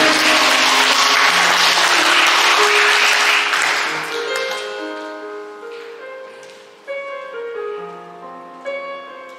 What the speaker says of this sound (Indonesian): Kita tepuk tangan untuk beliau-beliau.